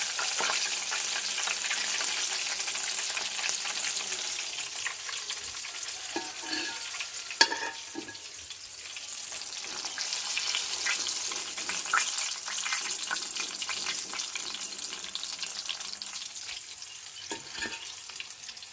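Pangas fish sizzle and crackle steadily in hot oil, with occasional scraping and a sharp clink of a utensil against the pan.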